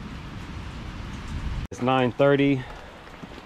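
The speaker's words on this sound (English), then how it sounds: "waiting for the rain to clear up" Rain patters steadily at an outdoor diamond mine wash station, a soft constant hiss, then someone speaks briefly over it close by.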